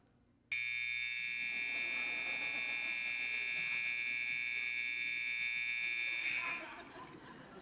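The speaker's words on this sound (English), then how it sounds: "that really aggravating fire alarm sound" A university fire alarm blares as a loud, continuous high-pitched buzzing tone that starts abruptly and holds for about six seconds before fading, with faint room noise around it.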